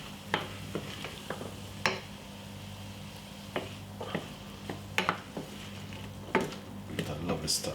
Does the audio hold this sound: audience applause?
no